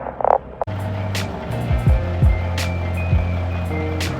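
A big truck idling at night gives a low, steady rumble beneath scattered clicks and short beeping tones, close and continuous.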